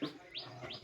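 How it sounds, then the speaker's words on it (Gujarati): Sparrows give faint, quick chirps outdoors on an early-morning pilgrimage walk, three short rising tweets in under a second against soft background hiss. "જો કેવા પંખીડા ચકલા બોલે"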